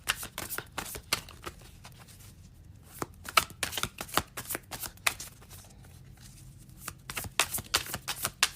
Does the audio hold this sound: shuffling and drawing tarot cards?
yes